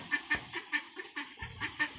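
Ducks quacking repeatedly in a steady, rhythmic series of nasal calls, fairly close, with no talking.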